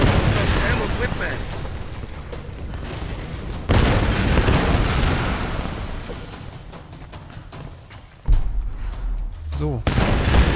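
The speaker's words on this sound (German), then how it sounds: "Lass mal aufhören, hier alles zu explodieren, das ist ja nervig." Loud booming blasts and crashing bursts follow one another, with sudden heavy hits, a noisy battle soundscape of explosions in the video game Tomb Raider.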